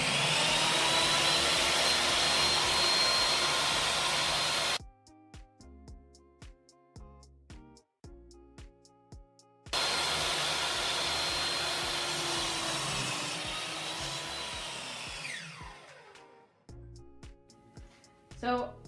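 An older laser-guided power saw makes two loud, whining cuts, each several seconds long, the second winding down gradually. A voice talks in the quiet gap between them.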